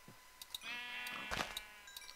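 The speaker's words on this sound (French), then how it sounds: "il y a plein de moutons ici" Sheep bleat in a modded Minecraft-style game, a faint, wavering drawn-out baa with a second, rougher bleat following, alongside small clicky game noises and no talking.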